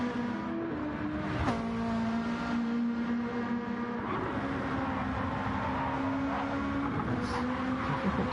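Race car engine from a GT1 racing game at Croatia, droning steadily and climbing in pitch as the car powers out of a drift, with a loud continuous tone and no talk.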